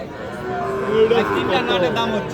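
A Sahiwal bull calf at a busy cattle market gives a low, drawn-out moo close by, rising and falling over steady crowd chatter and bargaining voices.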